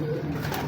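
A racing pigeon of Terminator Baker bloodline gives a single short, low, throaty coo, close and clear against a quiet background.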